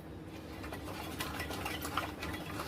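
A spoon scrapes and stirs a kunafa vermicelli mixture with grated cheese in a pan, giving soft, irregular clinks and rustling scrapes at close range with no talking.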